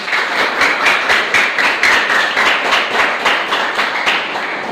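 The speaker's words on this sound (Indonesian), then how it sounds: "Tepuk tangan untuk semuanya." Audience clapping in a rhythmic, unified pattern of repeated claps, loud and close, steady for several seconds as a group applauds together.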